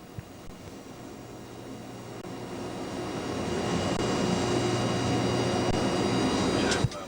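A train pulls out of Torviscosa station at the end of a slowdown, its steady rumble and rail noise slowly growing louder, with a sharp clank near the end and no talking.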